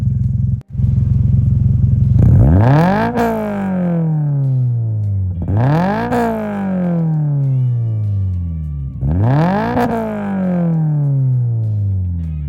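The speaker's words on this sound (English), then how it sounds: "hop inside the car and rev it up and see what the numbers are" A 2022-or-later Subaru BRZ / Toyota GR86 with a titanium aftermarket exhaust revs three times in succession, each blip climbing sharply then falling back to a steady idle, loud and close with no talking.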